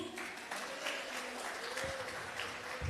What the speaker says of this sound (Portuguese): vocês tinham que aplaudir